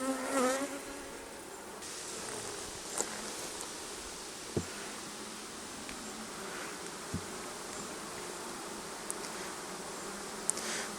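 Honey bees from an open, somewhat defensive hive buzz close and loud in a dense, continuous drone, with individual bees darting past amid occasional small knocks and clicks.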